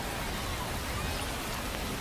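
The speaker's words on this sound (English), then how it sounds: "the way this rain is coming down" Steady rain pours down on a minor-league baseball game in Altoona, a dense continuous hiss filling the whole stretch at an even level with no breaks.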